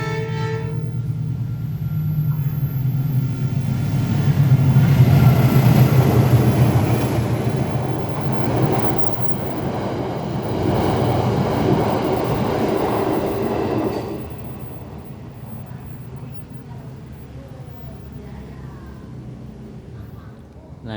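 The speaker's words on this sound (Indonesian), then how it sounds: "Sebentar, ada kereta." A train rumbles past close by, a broad roar swelling over several seconds and then easing off as it recedes, with a faint high whine on top.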